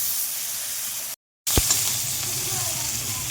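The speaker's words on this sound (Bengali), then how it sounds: "বক্স সাইজ করে কেটে রাখা পেঁয়াজ ওই একই প্রসেসে আমি নাড়াচাড়া করে ভেজে নেব" Box-cut diced onions stir-fried in hot oil, a bright continuous sizzle close up, briefly cut off, then returning with a spatula scrape.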